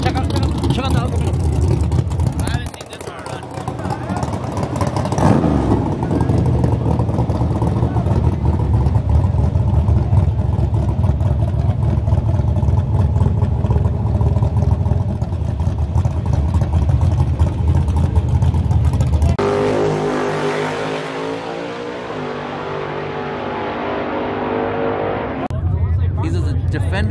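Truck engines roar loudly at the Truck Nationals, a sustained close revving drone that swells and fades over about twenty-five seconds with a brief drop partway through, and voices talk over it.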